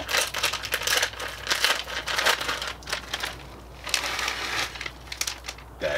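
A plastic bag of shredded cheese crinkles and crumples close up in a burst of loud, irregular rustling handling noise, with no talk over it.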